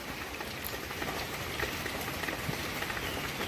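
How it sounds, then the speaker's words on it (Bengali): Soft, steady patter of rain with scattered drips tapping on a tin roof, faint and continuous with no voices. "টুপুর টুপুর হচ্ছে ওইটা হয়েছে ওই উপরে টিনের চাল থেকে পড়া"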